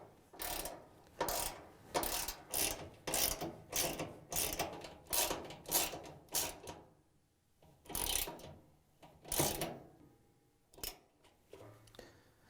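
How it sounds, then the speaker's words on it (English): A ratchet with a 7/16 inch socket tightening an eye bolt on a Whirlpool washer suspension spring, rapid clicking bursts in a steady series of strokes, then a pause and a few more, close and clear. "grab the 7/16 inch socket with the ratchet and tighten down the eye bolt"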